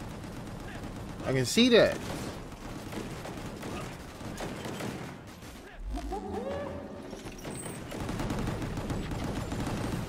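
Rapid gunfire bursts from a first-person shooter video game, with a sharp close volley early on and scattered shots after, under intermittent talking.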